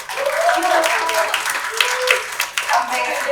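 A round of applause for author Koel Purie at the launch of her book, with clapping from the event audience under an overlapping voice speaking through most of the moment.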